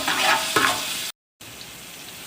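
Garlic frying in oil in a pan while being stirred, a loud broadband sizzle with two scraping stir strokes, then a brief dropout before a quieter steady sizzle.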